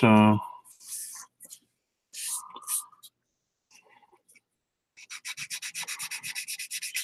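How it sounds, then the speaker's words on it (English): Sandpaper rubbing over the body of a Pontiac Catalina being prepped for primer, heard as a run of quick, even back-and-forth scrapes close by near the end, after brief talk and scattered handling noises. "sand this down somewhat smooth"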